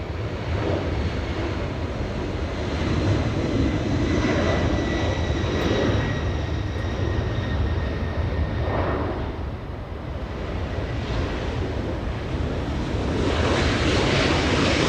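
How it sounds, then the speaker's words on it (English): Engines of a heavy Boeing 767 jet at LAX roar as the aircraft gets moving on the north side, a broad, loud rumble with a faint whine, steady throughout with slight swells, no talk. "Heavy 767 getting a move on right here in the north"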